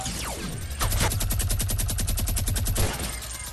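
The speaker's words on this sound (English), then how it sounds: "I have a minigun." A Fortnite minigun spins up and fires a rapid, evenly spaced stream of rounds for about two seconds, loud and close, then winds down with a falling whine.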